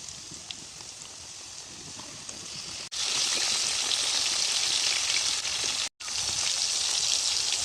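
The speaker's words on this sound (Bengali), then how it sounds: "চিকেন ফিঙ্গার দ্বারা এখন বাজিলাম।" Flour-coated chicken fingers fry in hot oil, a steady hiss that surges into loud, dense sizzling partway through, with a brief break before the crackle resumes.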